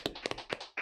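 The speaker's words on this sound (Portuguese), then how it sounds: "Palmas." A few scattered hand claps at close range, brief soft smacks in an uneven rhythm over under a second.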